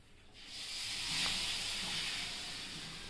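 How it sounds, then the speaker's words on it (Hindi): Milk poured into hot, browned roasted semolina, a sudden rising hiss that swells and holds as a steady, fairly quiet steamy rush, with no voices. "ये डाल दिया हमने इसमें दूध"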